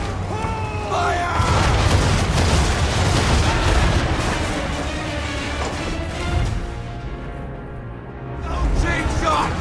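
Ship cannons fire in a naval battle in Assassin's Creed III, heavy booms and rolling blasts thundering almost continuously close by, with shouted orders from the crew over the barrage.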